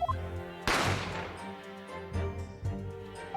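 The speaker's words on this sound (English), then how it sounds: "You heard the gunshot, you mean?" A single loud gunshot in the video game The Great Ace Attorney Chronicles cracks out sharply and rings off, set against a quiet musical background with no talk over it.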